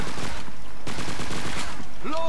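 Dense, rapid automatic gunfire in the World War II shooter Call of Duty 2, loud and close, with sustained bursts and a brief pause, ending with a sliding tonal game sound.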